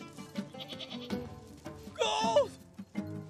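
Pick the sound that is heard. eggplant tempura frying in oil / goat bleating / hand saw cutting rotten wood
goat bleating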